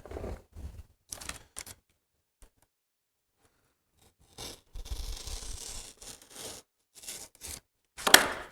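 Upholstery material is trimmed with a cutting tool in short bursts of snipping and rubbing, separated by long silent gaps; the strokes are close and fairly quiet, and a sharper scrape comes near the end.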